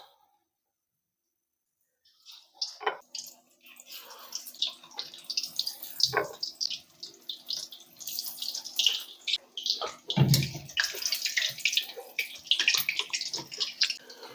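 Batter-dipped chicken strips drop one by one into hot oil and set off a dense, hissing crackle of frying that starts after a silent pause and stays steady and close, with occasional louder bubbling bursts.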